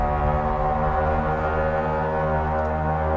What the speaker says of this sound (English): That would be such an annoying honk if someone had that.